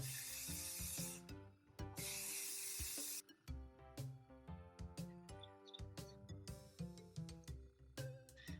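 Two long hissing bursts of hairspray, close and steady, are followed by rhythmic tapping and music-like tones in the background.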